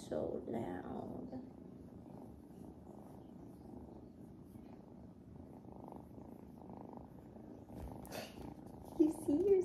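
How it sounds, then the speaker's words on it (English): Loud, steady purring from several cats close by, a continuous rumble with some speech heard faintly near the end. "y'all are purring so loud."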